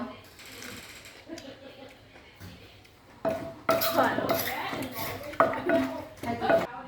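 Utensils scraping and clinking against a dish as fish is scooped out, with metallic clatter growing louder and busier in the second half, alongside quiet background voices.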